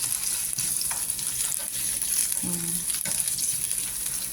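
Garlic and onions sauté in a pan for zucchini with leftover chicken, a close, steady sizzle with occasional utensil clicks and a brief tonal squeak.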